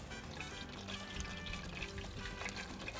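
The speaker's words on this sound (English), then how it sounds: "when you drop these in the oil, about 325 degrees to 350" Beer-battered rockfish jalapeno poppers fry in oil at about 325 to 350 degrees, giving a faint, steady bubbling sizzle with no talk.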